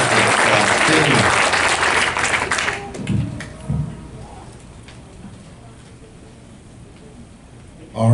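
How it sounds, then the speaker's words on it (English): At a political debate, a crowd applauds loudly for a few seconds, then the clapping dies away into quiet room noise with a few scattered claps. "let's maybe just give them one quick round of applause"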